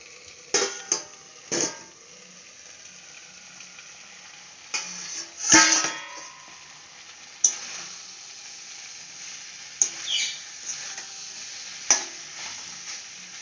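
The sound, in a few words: sautéing and stirring food in a pan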